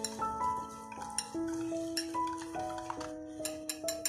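A spoon or whisk beats a sugar mixture in a bowl for Russian salad, with quick rhythmic clinking and tapping against the bowl over soft background music tones.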